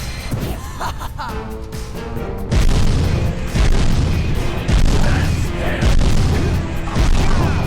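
Bombs go off in Jak and Daxter as a string of deep, loud booms and crashes that keep coming in close succession over several seconds, with game noise and voices mixed in.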